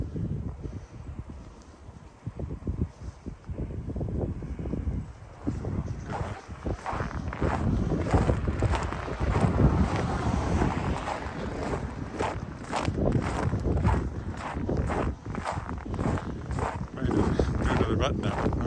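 Wind gusting and buffeting the microphone while someone walks through snow, with heavy rumbling bursts and crunching footsteps throughout, close and rough.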